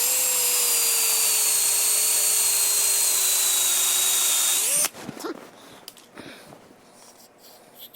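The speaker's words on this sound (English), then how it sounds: "I'm going to let this drill stick out a little bit further" A power drill bores a hole with the bit extended well out from the chuck, giving a loud, steady high whine for about five seconds before it cuts off, followed by faint clatter and handling sounds.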